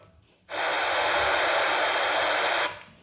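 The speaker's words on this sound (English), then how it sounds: "The top one, I believe, opens the squelch up." A burst of harsh radio static hisses on abruptly for about two seconds as a Retevis NR630S PMR walkie-talkie's squelch is opened, then cuts off with a short click.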